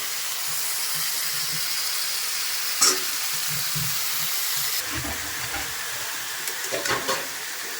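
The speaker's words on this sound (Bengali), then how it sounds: "এর উপরে আমি সবজিগুলো দিয়ে দিচ্ছি" Vegetables go into a hot pan for a hilsa fish curry with eggplant, giving a continuous hissing sizzle broken by a few sharp clatters and stirring knocks.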